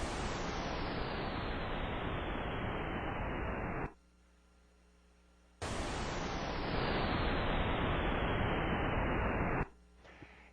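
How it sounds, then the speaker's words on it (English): A simulated Big Bang sound: two long bursts of broadband roaring hiss, each with a whistle sliding steadily downward in pitch, separated by a short quiet gap; loud and continuous. "And that whistle, that lowering in pitch,"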